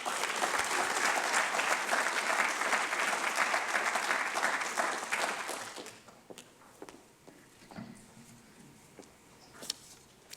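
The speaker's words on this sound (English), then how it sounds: "let's give her a round of applause" An audience at an alumni awards ceremony gives a round of applause, loud and dense for about five seconds before dropping away quickly to a few scattered claps, taps and room noise.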